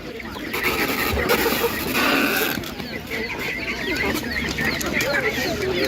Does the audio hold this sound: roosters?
yes